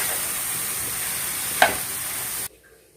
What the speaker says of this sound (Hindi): अब टमाटर भी डाल देंगे। इसको भी अच्छे से मिक्स कर लेंगे।